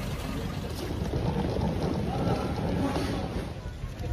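Cold wind blows outside Chandigarh airport, buffeting the microphone with a continuous low, rumbling roar that swells slightly in the middle.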